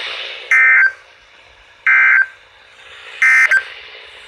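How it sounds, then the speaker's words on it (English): NOAA weather radio warning alarm test: three loud, steady electronic tone bursts, each under a second, separated by quieter broadcast hiss with faint background signal between them. "This concludes the weekly test of the warning alarm system."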